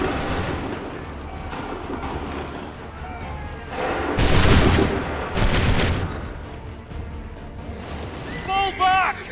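Massed musket volleys in an Assassin's Creed 3 battle at Bunker Hill: loud booming bursts of rifle fire roll out in several waves, with shouted commands and battle noise around them.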